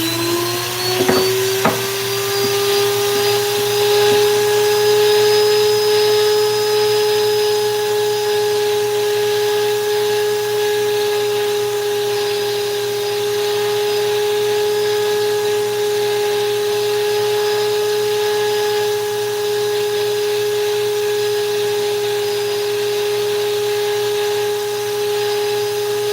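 Flex shaft rotary tool spinning a burr bit as it carves a wooden owl, a steady high-pitched whine with a constant tone held for the whole stretch, close and fairly loud, with a couple of brief knocks near the start.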